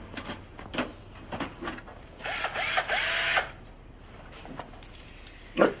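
A power tool whirs in a short burst of about a second, loud and close, between scattered clicks and mechanical handling noises in an otherwise quiet room.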